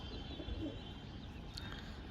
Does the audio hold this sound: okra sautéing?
no